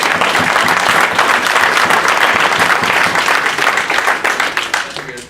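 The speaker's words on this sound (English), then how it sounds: "Big round of applause for Schlafly." An audience at a St. Louis FC town hall bursts into sustained clapping and applause, dense and loud from the start before tapering off near the end.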